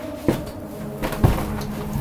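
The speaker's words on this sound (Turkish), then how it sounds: "Kapıyı camları açacağım." Door and window panes being opened from a rooftop entry, two sharp knocking clunks about a second apart amid faint creaks and room noise.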